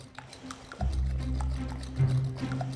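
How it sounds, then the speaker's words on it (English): Egg whites being whisked to stiff peaks in a bowl for a Victorian Christmas recipe: soft, wet, squishy whisking strokes come in an uneven rhythm over a steady low hum, close and fairly quiet. "Whisk up the egg whites until they form stiff peaks."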